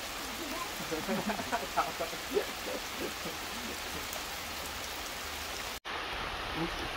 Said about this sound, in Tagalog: Ito ang hinihintay natin, itong ulan na to.